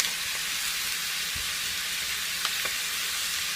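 Tomatoes frying in a pan for chicken curry give a steady, dense sizzle that holds throughout, with a few light clinks of stirring.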